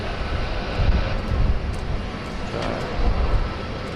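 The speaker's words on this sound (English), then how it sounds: "the beautiful Malaysian Airlines 330-300 in the Negaraku livery, making her way along taxiway Alpha" A Malaysia Airlines Airbus A330-300 in Negaraku livery taxies along an airport taxiway in Sydney. Its engines make a steady, moderately loud rumble with a faint whine, with no talk over it.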